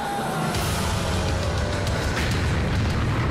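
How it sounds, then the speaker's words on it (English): A dense, rumbling explosion from the horror video game Michigan: Report From Hell, a continuous loud roar of noise filling the whole moment without a clear start or finish. "It's exploding!"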